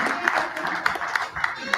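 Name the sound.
audience clapping at savers forum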